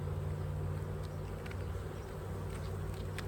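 Honey bees humming steadily around an open hive during a beekeeping inspection, a continuous low drone with occasional louder passes close by, no talking over it.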